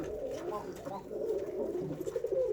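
Pigeons in a loft give low, throaty rolling coos, several close calls that rise and swell toward the end, with a faint voice underneath.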